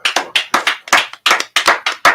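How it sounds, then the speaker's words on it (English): A small group claps in a close, quiet room, about a dozen sharp, distinct hand claps in a loose, uneven rhythm with brief silences between them. "Go ahead and clap that out."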